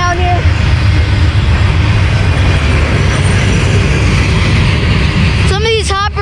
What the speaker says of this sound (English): Some of these hoppers sound very rickety here